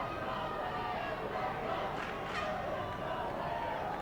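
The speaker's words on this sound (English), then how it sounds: "the Lincoln West crowd trying to encourage their players" Crowd at a Lincoln West high school baseball championship game, a steady wash of cheering and shouting voices from the stands, moderately distant with brief louder bursts of yelling.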